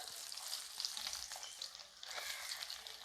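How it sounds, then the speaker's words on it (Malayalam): Coconut pieces fry in two to two and a half spoons of coconut oil in a heavy-bottomed iron pan, producing a faint, steady, even sizzle with light crackling and no talk. "വെളിച്ചെണ്ണ ഒഴിച്ചു കൊടുക്കാം ഒരു രണ്ട് രണ്ടര സ്പൂൺ വെളിച്ചെണ്ണ ഉണ്ട് കേട്ടോ അതിലേക്ക് നമ്മൾ ആദ്യം ചേർത്ത് കൊടുക്കുന്നത് നമ്മുടെ തേങ്ങക്കൊത്ത"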